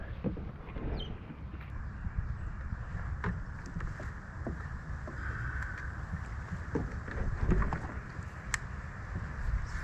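A kayak paddled through swamp water, with soft repeated paddle splashes and hull knocks under low wind rumble, close and fairly quiet, no talking.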